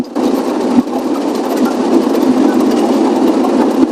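An automatic car wash machine in Japan, a loud, steady mechanical rumble and rushing drone that stays constant throughout, close and unbroken, with no speech.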